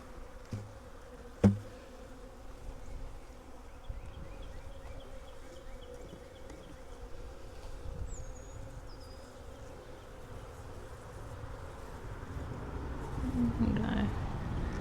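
Honey bees swarming around an opened nuc hive during installation, a dense continuous drone of many close insects holding steady for the whole span, with a single sharp knock near the start.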